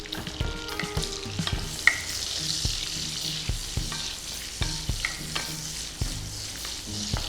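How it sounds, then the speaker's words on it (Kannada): Capsicum fries in hot butter in a pan on an Indian cooking show, with a steady close sizzle and scattered spatula scrapes and taps against the pan. "ನಾವು ಈ ಕ್ಯಾಪ್ಸಿಕಮನ್ನು ಫ್ರೈ ಮಾಡಿ ತೆಗೆದಿಟ್ಕೊಳ್ಳೋಣ."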